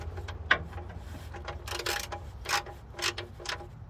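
Ratcheting clicks in short bursts come from a torque wrench tightening the oil drain plug on a 1997 Dodge Dakota Sport with a 5.2L V8, fairly faint and close by.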